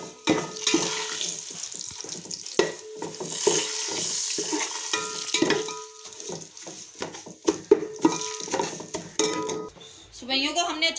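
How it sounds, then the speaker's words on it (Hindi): Broken vermicelli (seviyan) for sweet zarda is roasted and stirred in a pan, with repeated scraping and clattering of a utensil against metal and a soft sizzle running through, fairly close. "इसे अच्छी तरह से भूनेंगे क्योंकि ये सवैयाँ का ज़र्दा है।"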